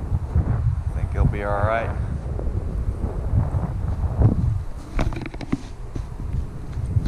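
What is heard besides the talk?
wind blowing at Wilson's Cut, Port Aransas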